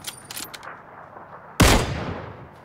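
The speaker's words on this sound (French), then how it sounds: "On me tire dessus." A loud burst of gunfire in the battle royale game PUBG erupts suddenly near the end, sharp and close, after a stretch of quieter game noise.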